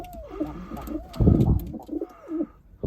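A female Arab kepezli pigeon coos softly and close by in a few low, rolling phrases, over faint background noise.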